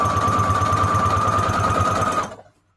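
Sewing machine stitching through fabric bonded with HeatNBond Lite, a steady loud motor whir with rapid needle pulses running continuously for about two seconds before stopping abruptly.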